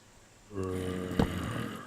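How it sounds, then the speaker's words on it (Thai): A low, guttural zombie groan from Minecraft rises suddenly and holds steady, with a brief harsher burst partway through, loud and close. "เฮ้ยเฮ้ยเสียงซอมบี้"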